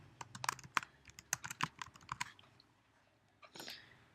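Fast, irregular keystrokes on a computer keyboard while entering text in Illustrator, a close burst of clicks for about two seconds, a pause, then a short final flurry.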